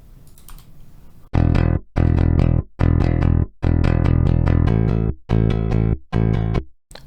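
A MIDI bass lick played through a bass software instrument, several loud phrased bursts of notes separated by short gaps, with a quiet stretch of faint background at the start before the notes come in.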